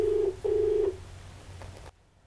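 Two short electronic telephone rings sound as a call-in caller to a television question-and-answer show is connected. They are steady, fairly loud tones, then the line cuts off abruptly to near silence.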